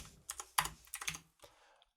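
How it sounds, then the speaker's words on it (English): A short, close burst of keystrokes comes from a computer keyboard as someone types programming code, with rapid uneven clicks that trail off into silence. "We can type"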